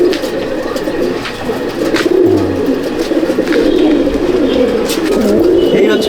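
Golden Rampuri pigeons, a high-flying breed, coo in a loft at Laxmikantapur, a loud, continuous layered burbling from nearby birds that fills the whole stretch.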